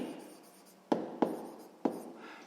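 A pen or pencil writes numbers by hand on paper during a sixth-grade maths exercise, with soft scratching strokes and three sharper taps, close and quiet.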